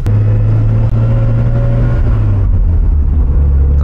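Mazda RX7 FC3S rotary engine running at low RPM with a fault, a loud close steady hum with deep rumble that dips slightly in pitch partway through.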